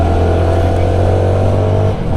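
A CF Moto NK 300 naked motorcycle with a six-speed gearbox pulls away, its engine a loud, steady, close drone that holds throughout with no talking.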